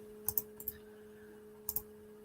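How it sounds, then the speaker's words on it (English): Typing on a computer keyboard: a few crisp, close keystroke clicks in small pairs and bursts with short pauses between, over a faint steady electrical hum. "So here, I'm typing it in right now."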